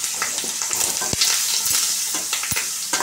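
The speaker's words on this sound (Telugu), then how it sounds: "కలుపుకున్నాక ఒకసారి వేగనిద్దాము, ఒక 5 నిమిషాలు." Sliced okra with turmeric and chilli spices sizzles steadily in a pan, with a spoon stirring and scraping now and then, loud and close.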